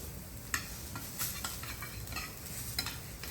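Eggplant slices sear in a hot pan, a steady moderate sizzle with occasional scraping stirs and small crackles, no talking.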